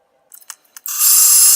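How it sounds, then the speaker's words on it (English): A brass punch end being milled on a 13-inch lathe: a few short clicks and taps, then a sudden loud, bright, hissing cut that continues steadily close by. "I'm milling the end of a brass punch."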